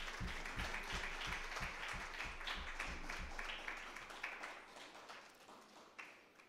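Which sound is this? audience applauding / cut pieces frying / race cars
audience applauding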